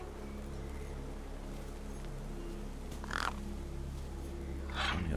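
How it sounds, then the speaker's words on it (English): Crows caw over a corpse propped against a rock in Beyond A Steel Sky, two harsh, separate calls rising over a steady low ambient drone. "The gang birds were eyeing up the corpse hungrily."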